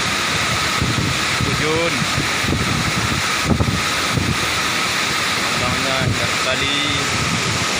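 Strong wind blows at a waterfall with a constant loud roar and rumble, while a person speaks over it.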